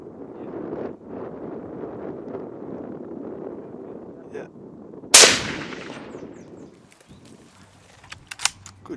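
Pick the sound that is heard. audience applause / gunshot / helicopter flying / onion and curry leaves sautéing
gunshot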